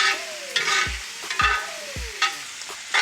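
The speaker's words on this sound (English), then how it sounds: "And then I'm going to toss the pasta. And I'm gonna add that Alfredo." Penne pasta with shrimp and Alfredo sauce tossed in a pan, giving close scraping and stirring strokes with soft sizzling, in a few repeated bursts.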